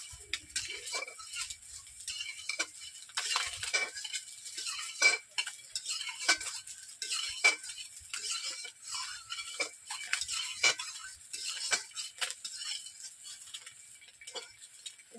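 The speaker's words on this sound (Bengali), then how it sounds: "এরপর আমি কড়াই থেকে তুলে নিচ্ছি" A metal utensil scrapes and clinks against a wok as reddish-brown fried eggs are lifted out one by one, with quick irregular taps and scrapes over a faint background of frying oil and no talking.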